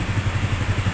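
A Rusi Macho TC 175 motorcycle engine idles close by, its fault of backfiring fixed, with an even, quick low-pitched pulsing and light mechanical clatter.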